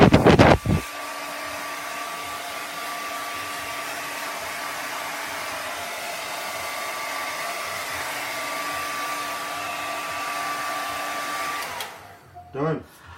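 A hair dryer runs steadily for about eleven seconds while drying artwork in a studio, a constant close whooshing roar with a faint motor hum, bracketed by brief knocks and clicks as it switches on and off.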